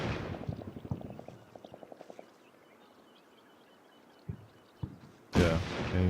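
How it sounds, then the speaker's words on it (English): Combat Mission Shock Force 2 battle: a rapid run of sharp gunshot bursts in quick succession, fading into quiet, then two isolated thuds and a loud closing blast. "we hear some gunfire on the other side"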